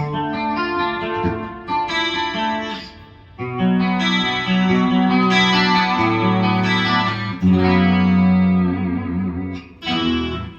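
An electric guitar plays through an amplifier with its input EQ'd, heavily chorused and distorted, with sustained chords and notes ringing out in phrases and short pauses between them.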